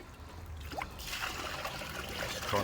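Water trickles and runs steadily over bedrock being washed down while prospecting for gold, a close, continuous soft splashing flow that grows slightly louder toward the end.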